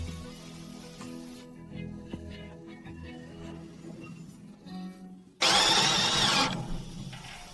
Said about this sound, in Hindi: मैं हर सेक्शन में मजबूती के लिए थोड़ा 3 स्क्रू लगाऊंगा